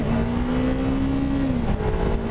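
A Yamaha 300 beginner motorcycle engine hums in a loud, steady drone, its pitch dipping midway as a gear shift goes through before the revs settle again.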